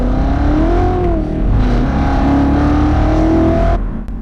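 An old car's engine revs hard, rising and falling in pitch as it climbs toward the red line, loud and close, then cuts off abruptly near the end.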